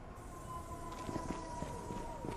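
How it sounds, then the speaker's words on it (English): Sirens wail in the Infamous video game on PS4, a steady tone with a rising and falling electronic wail beneath it, heard at moderate distance under other game sounds. "Reg, I'm hearing sirens, man."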